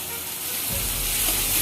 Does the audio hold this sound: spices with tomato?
yes